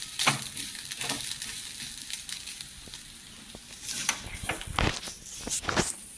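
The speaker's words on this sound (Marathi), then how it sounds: "एक कच्च्या लसणीचा जो स्वाद असतो तो निघून जावा म्हणून थोडी आपण ही लसूण परतून घेतो." Garlic sautéing in a pan for a Maharashtrian whole masoor curry, with soft sizzling under intermittent sharp scraping and stirring clatter from a utensil, fairly close and irregular in rhythm.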